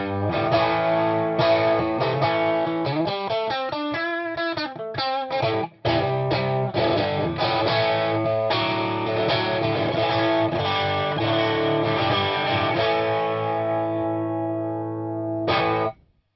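High-gain electric guitar through a Marshall Vintage Modern 100-watt amp, loud distorted chords and a fast wobbling run, sustained with a brief break before ringing out and stopping abruptly.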